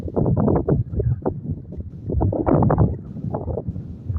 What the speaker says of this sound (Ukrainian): Це вітер дурний